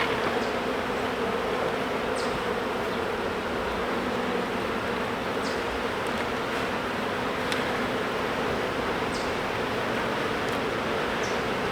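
A honeybee swarm fills the air with a steady, dense buzzing around a hive, holding an even drone throughout with faint sharp clicks scattered on top.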